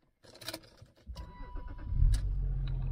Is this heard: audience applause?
no